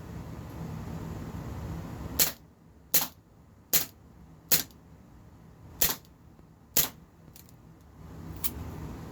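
A Walther PPK/S 4.5mm CO2 BB pistol empties the rest of its magazine: eight sharp, loud cracks at uneven intervals of about a second, each standing alone over a quiet background with no talking.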